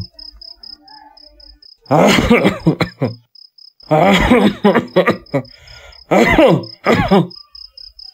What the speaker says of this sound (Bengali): তোমার তো দেখি কাশিটা বাড়ছে